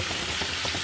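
Chicken meat frying in a pan produces a steady, close sizzling hiss with no talking.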